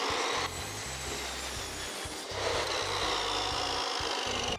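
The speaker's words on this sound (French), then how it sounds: "je vais découper dans un restant que j'avais coupé au préalable" A leftover offcut of wood being cut by hand in a workshop, with rapid rhythmic rasping saw strokes close up, pausing briefly before resuming at a similar steady pace.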